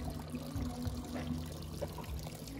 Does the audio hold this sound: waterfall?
yes